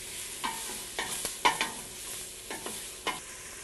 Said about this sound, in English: I'll saute this for just a few minutes